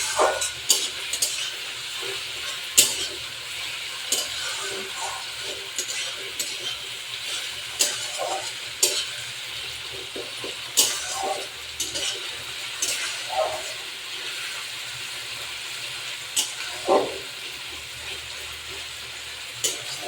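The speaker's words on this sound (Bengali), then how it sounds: "আদা রসুন বাটাটা দিয়ে একটু ভালো করে কষাবো, আর একটু মশলাটা ভাজবো।" Ginger-garlic paste sizzles in a hot pan with a steady crackling hiss, punctuated by irregular clicks and scrapes of stirring.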